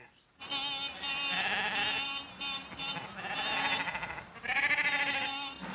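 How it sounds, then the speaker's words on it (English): A flock of sheep on a road bleat one after another, loud wavering cries that overlap with brief gaps between them. "Sheep are all over the road, damn silly things."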